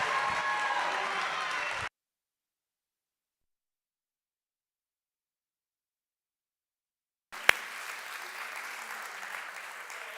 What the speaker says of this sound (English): But can you guys please give Thea a round of applause and thank her?